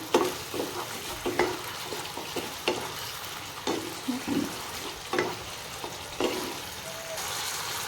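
Onion, capsicum, ginger and garlic with sauces being stir-fried for chilli soyabean, a continuous sizzle broken by repeated scraping and tossing strokes of the spatula, close and moderately loud, with no speech.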